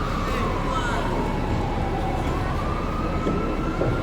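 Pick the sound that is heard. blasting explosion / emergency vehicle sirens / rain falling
emergency vehicle sirens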